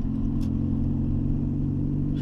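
A black and a brown Volkswagen Gol turbo idle and rev, their engines producing a steady, loud low rumble that runs continuously and close by with no voices.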